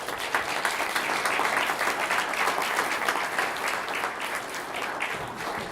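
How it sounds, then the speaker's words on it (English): Audience applause for mayoral candidates at a 2015 candidate forum, a steady, dense burst of clapping from a room full of people, sustained at even loudness throughout with no talking over it. "Please give them a round of applause."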